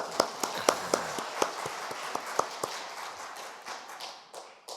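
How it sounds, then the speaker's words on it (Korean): Scattered clapping from a small audience at a Korean church talk, sharp separate claps that start fairly crisp and thin out into a softer, faint patter over a few seconds. "한번 박수 주십시오."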